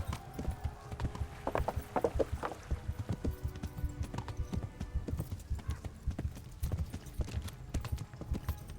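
A horse gallops in the medieval video game Kingdom Come: Deliverance, with rapid, rhythmic hoof clip-clops close by, brief whinnies, and faint game sounds layered around the steady pounding.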